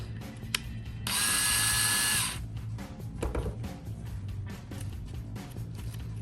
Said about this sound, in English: you're just going to drill with medium pressure right through the blank